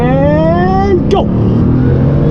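A four-turbo Bugatti accelerates hard with a loud rising engine howl that climbs through the revs, shifts with a brief dip, then pulls on steadily.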